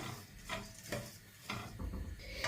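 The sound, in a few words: dry-roasting barley rice in a pan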